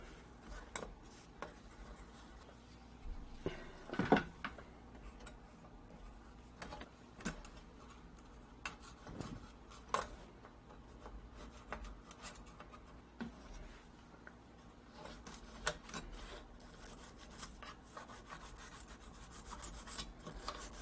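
Old grease being scraped out of the record changer mechanism of a Philco 47-1230 antique tube radio phonograph, a quiet series of irregular rubbing and scratching strokes with occasional small clicks.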